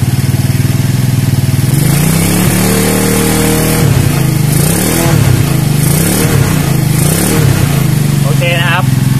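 A nearby Keeway Superlight 200 motorcycle engine idles, then revs up several times in quick bursts, pitch rising and falling, with some talking over it.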